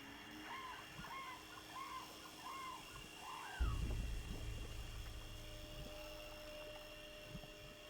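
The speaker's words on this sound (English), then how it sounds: "You can also hear faint noises of birds and crickets." Faint birds chirp in a short repeated series of calls over a quiet swampy ambience in the World at War Zombies game, then a low rumbling thud swells in and fades beneath it.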